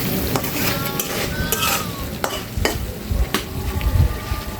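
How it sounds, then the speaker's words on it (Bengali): Bottle gourd pieces go into a pot of sizzling rohu fish-head curry in a village-style kitchen: constant loud frying hiss, with scraping stirs and a few sharp clanks of a spoon against the pot. "এখন হচ্ছে আমি লাউগুলো দিয়ে দিব।"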